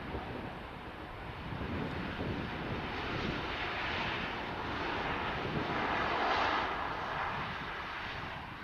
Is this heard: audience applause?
no